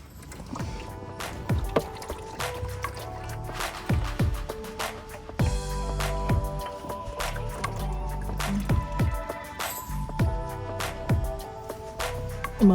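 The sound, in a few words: engine oil draining from car oil pan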